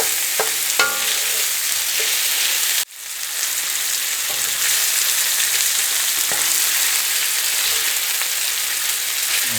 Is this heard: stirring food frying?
yes